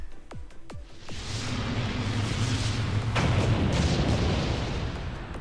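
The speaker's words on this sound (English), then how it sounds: "Fire all AGM 114 air-to-ground missiles." Heavy AGM-114 air-to-ground missile strikes in the Blue Archive video game: a few sharp booming impacts early, then a sustained loud roaring rumble of explosions and debris that swells and holds without speech.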